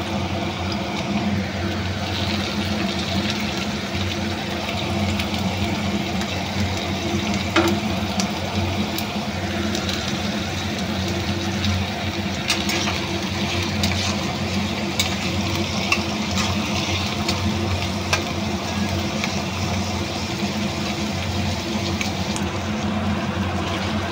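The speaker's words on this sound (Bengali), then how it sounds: "পেঁয়াজটা ভেজে নিচ্ছি, তেলটা আমার গরম হয়ে গেছে।" Onions fry in hot oil for an egg tarka, a steady, close sizzle with occasional stirring scrapes and no voices.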